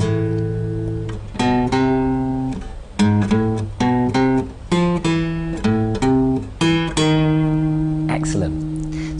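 An electric or amplified guitar plays a section of a theme, picking short, separated notes in a halting rhythm that ends on a sustained held note, clear and close with no talking.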